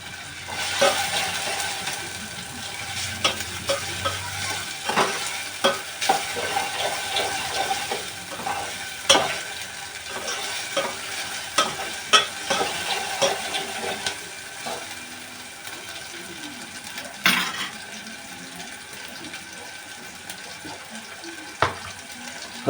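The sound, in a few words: egg curry masala frying and stirring on low flame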